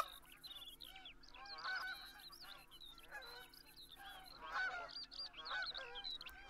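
A flock of Canada geese honks repeatedly in the hunting video game Call of the Wild, overlapping calls rising and falling at moderate distance over a low steady background hum.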